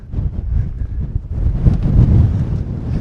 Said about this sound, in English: That breeze is helping, although I don't want it to be much windier than this tonight.